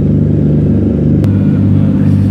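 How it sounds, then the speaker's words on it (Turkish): Toyota Chasers rev their exhausts at a Tokyo car meet, producing a loud, close, droning engine rumble with a steady low tone that shifts pitch slightly as the throttle changes. "Chaser'lar burada egzoz yarıştırıyor."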